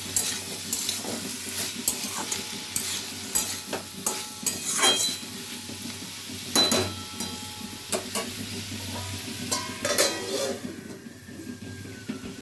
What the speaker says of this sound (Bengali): পেঁয়াজ কলি কাটছি, ভাজবো।